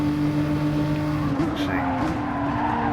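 Race cars in Gran Turismo Sport hold a continuous, loud engine drone, with two steady tones shifting in pitch as one car overtakes another at close range.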